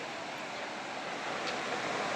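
A steady, broad roar of rushing water from a waterfall fills the whole stretch at an even level, with no voices over it.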